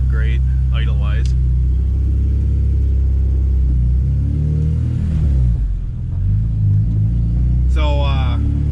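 A K24-swapped Honda Integra sits warmed up at idle, its steady low rumble running close and even throughout while someone talks over it.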